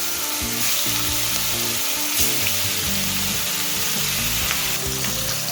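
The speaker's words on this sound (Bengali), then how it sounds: "তেল ভালো মতো গরম হয়ে গেলে এর মধ্যে আমি নুন হলুদ মাখানো ইলিশ মাছের টুকরোগুলো দিয়ে দেবো" Salt-and-turmeric-coated hilsa fish pieces fry in hot mustard oil with a loud, dense, continuous sizzle close to the pan, broken only by occasional faint bubbling pops.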